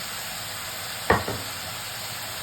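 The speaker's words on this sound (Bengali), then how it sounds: "মাশরুমটা অর্ধেকটা ভাজা হয়ে গেছে, পেঁয়াজ দিয়েছি।" Mushrooms and onions fry in a pan over a high gas flame, a steady close hiss of sizzling broken once by a brief utensil knock against the pan.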